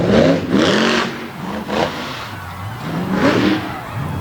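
A Ford competition truck with a big 540 engine revving hard at a freestyle event, loud repeated roaring surges rising and falling over several seconds, close and dominant with crowd noise beneath.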